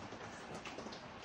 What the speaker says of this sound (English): you guys can hear it raining again